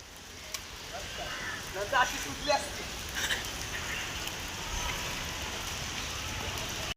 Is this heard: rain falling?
yes